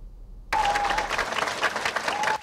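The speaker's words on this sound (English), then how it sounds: "He received enthusiastic applause as soon as he entered the room." Enthusiastic applause at a farewell party for a former education minister, a burst of dense clapping from a room full of people that starts abruptly and continues loud and close, with a faint tone running beneath it.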